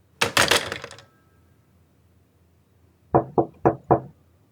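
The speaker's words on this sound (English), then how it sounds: "Someone knocked at the door as I placed the handset back over the switch hook." A door in an office chamber takes a knock. A loud, clattering thump comes first, then a pause of about two seconds, then four crisp evenly spaced raps close by in a quiet room.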